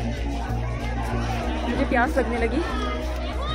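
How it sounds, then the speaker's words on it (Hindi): Dense crowd chatter fills the busy grounds of the Rashtrapati Bhavan Museum in Delhi, a continuous babble of many voices with a low steady hum beneath, while a nearby person speaks over it. "सब तरफ भीड़ ही भीड़ है यहाँ पर।"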